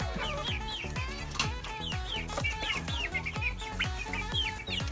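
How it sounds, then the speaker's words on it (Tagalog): Small Black Australorp chicks chirp and cluck continuously in a busy, overlapping chorus, close and moderately quiet, with no talking. "Itong mga maliliit kong sisiw na to na Black Australorp"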